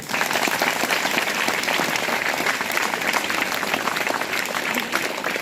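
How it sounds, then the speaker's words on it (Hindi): Audience applause at a primary school gathering honoring the captain of India's women's under-17 team: dense, steady clapping from a sizable crowd, loud and sustained throughout with no pauses. "इनके लिए हम लोग ताली बजाते हैं"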